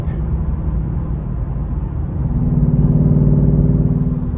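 A Ford Mustang Mach 1 engine rev matching on a downshift, a deep rumbling idle that rises into a louder, throbbing blip of revs heard close up from inside the car.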